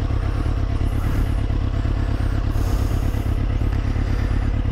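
A Suzuki GSX-R 600 K2 motorcycle is ridden on the road, its engine droning loudly and steadily up close with rushing wind noise throughout.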